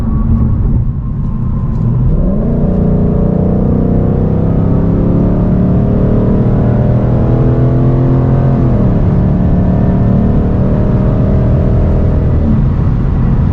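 A 2020 Ford Mustang GT Performance Pack with the 5.0 V8 accelerates hard, its loud, smooth engine note climbing through the revs, dropping at an upshift, then pulling up again, heard from inside with no talking.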